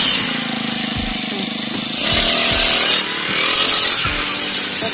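A brush cutter harvesting a soybean crop in a field, its engine whining loud and continuous with the pitch rising and falling as it bites into the stalks.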